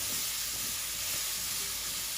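Asparagus sizzles in melted butter in a pan, giving a steady, close hiss of frying with no voices.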